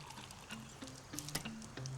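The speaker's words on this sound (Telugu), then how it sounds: "మెటల్ మగ్, కాస్త రివర్ వాటర్." River water poured into a metal mug outdoors, a short trickling splash with small clinks, quiet and close.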